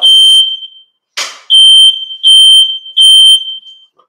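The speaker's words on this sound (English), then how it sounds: "Nothing's burning, so I don't know why the fire alarm got set off." A smoke-type fire alarm goes off indoors with no fire present, sounding loud piercing electronic beeps: one long tone, a break, then three sustained pulses in steady rhythm, with no one speaking.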